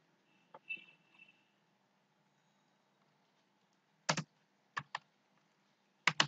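A computer keyboard clicks in sparse, close bursts of a few quick keystrokes separated by long quiet pauses, with a faint background hum.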